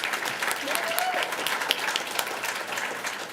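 A school board meeting audience applauds the Lady Panthers volleyball team after their state finals appearance, a steady wash of clapping from a crowd sustained from start to finish, with a brief whistle-like tone heard early on.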